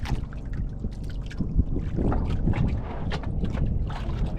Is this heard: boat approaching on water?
yes